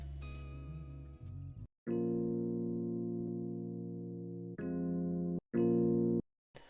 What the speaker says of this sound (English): I added this Rhodes presets out of my synth, and it just follows the same progression